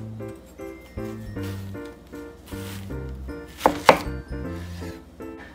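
A knife chops through half an onion for mincing, with a steady run of brisk, close taps on a cutting board over a melodic music bed, during preparation of a mess tin paella.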